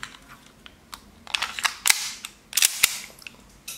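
A gas-powered BB pistol is test fired: several sharp, snappy pops in irregular succession, some in quick pairs, with faint mechanical clicks between shots, close by and without talk.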